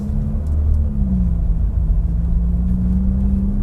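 A GAC Empow with a single-turbo 1.5-litre engine accelerates on a race track, its engine droning in a loud, steady low hum with a rising tone inside the cabin and no talk.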